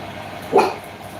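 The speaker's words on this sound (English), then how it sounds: "the dog keeps barking at literally nothing" A single dog bark rings out once at middle distance over a steady background hum in a room, with no one talking.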